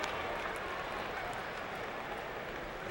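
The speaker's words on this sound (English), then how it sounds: "There's a buzz in the crowd." Steady crowd murmur fills a ballpark during a Nationals versus Cleveland baseball game, a broad continuous roar of many voices holding at an even level with no single voice standing out.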